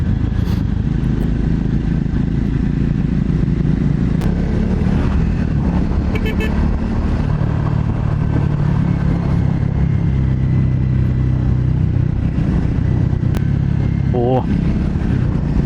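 A Scrambler motorcycle drones loudly and steadily on the road, with engine pitch shifts from downshifting and wind rush throughout, and a rider's voice over it.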